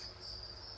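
Baby crickets chirp in a breeding enclosure, a thin continuous high trill that is steady and faint, with no talking.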